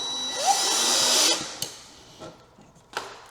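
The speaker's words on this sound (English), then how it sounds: "So we'll drill those in" A cordless drill whirs for over a second while driving screws into an Allen & Roth Hartsford closet during assembly, then stops, followed by a few short clicks and knocks close by.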